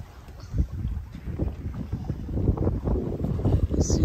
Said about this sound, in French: Il y a 9 nœuds de vent